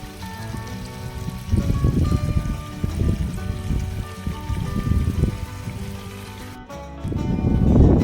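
Water flowing from a pipe while watering trees on a hillside plot, a gurgling splashing stream that swells and fades, thinning out before surging strong again near the end.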